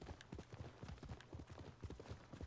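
Rapid, rhythmic horse hoofbeats clip-clop at a steady gallop in the video game Ghost of Tsushima, faint and close-sounding, with no voices.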